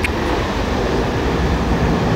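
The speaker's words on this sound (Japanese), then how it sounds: "お、今電車が来ましたが、電車の音どれぐらい拾ってるでしょうね。" Two trains pull into a station platform, a steady broadband rumble and hiss that holds level throughout, with no voices over it.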